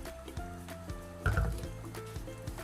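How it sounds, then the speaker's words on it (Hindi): Half a cup of oil is poured into beef cooking for bhuna gosht, a faint liquid splash and sizzle with a brief louder gush midway over a steady kitchen background. "इसमें आधा कप हम जो है ऑयल डालेंगे।"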